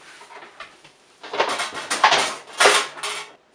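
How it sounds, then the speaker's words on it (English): Kitchen dishes and cutlery clatter as a cutting board is pulled out, making a short run of loud knocks and scrapes that rises and falls over a few seconds, with no talking. "We're gonna need probably a cutting board."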